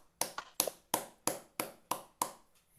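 A small classroom group claps for a student teacher in a quick, steady rhythm: about eight crisp claps in under three seconds, close and fairly even, with no talking.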